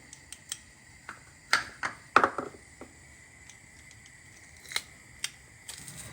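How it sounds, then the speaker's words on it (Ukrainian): Two heads of garlic pressed through a garlic press while making a zucchini and mushroom salad for winter, heard as a series of sharp clicks and crunching squeezes, loudest near the middle, against a quiet kitchen background. "Я буду видавлювати дві головки часнику"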